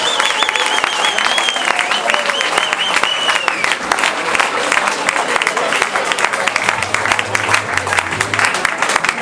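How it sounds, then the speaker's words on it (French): Sustained applause from a crowd for the Union Rennes Basket 35 team after a basketball match, dense clapping filling the hall throughout with no break. "je pense qu'on peut déjà applaudir l'équipe de l'Union Rennes Basket 35"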